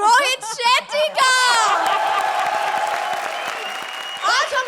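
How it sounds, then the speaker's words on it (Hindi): Studio audience applause and cheering on the Comedy Circus comedy show welcoming Rohit Shetty, a loud crowd roar rising under an excited voice and carrying on for several seconds, with talk at the start and end and some laughter mixed in. "और तालियों के साथ स्वागत उनके टक्कर के डोले लिए रोहित शेट्टी का।"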